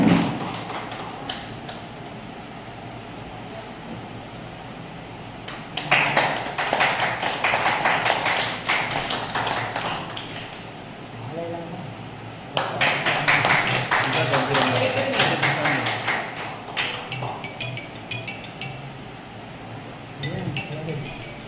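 An indoor audience at an astrology conference breaks into two rounds of steady clapping during a shawl-honouring ceremony, each lasting several seconds, with a speaker's voice heard before and between.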